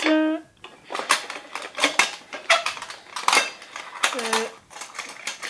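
Metal cutlery (spoon, fork and knife) clinks and clatters in a series of sharp, bright hits, close by, with brief pauses between bursts.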